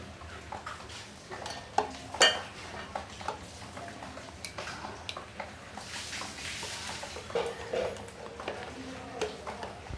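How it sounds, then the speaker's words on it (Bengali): Pieces of marinated hilsa fish being placed into a metal tiffin box for steamed ilish; soft, intermittent clinks and wet taps of metal and fish, fairly quiet and close, with no talking. "টিফিন বাটির মধ্যে মাছগুলোকে আমি রেখে দিচ্ছি।"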